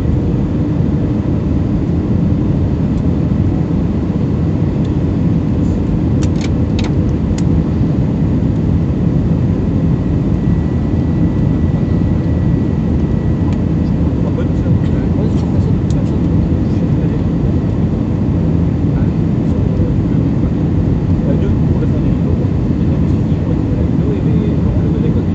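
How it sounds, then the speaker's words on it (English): Inside an airliner cabin on final approach and landing, a loud, continuous low engine and air roar fills the space, with faint brief clicks and rattles and no clear talk. "gentlemen, final preparation for landing. Please make sure that your seatbelts are securely fastened"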